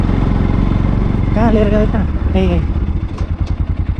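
A motorcycle engine idling close by, with a steady low putter that turns into a rhythmic, slightly uneven chug toward the end, while people talk over it.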